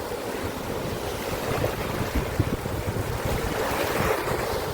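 Sea waves wash against a beach jetty on the Konkan coast near Ratnagiri, a steady roar of surf mixed with gusting wind buffeting the microphone, with no one speaking.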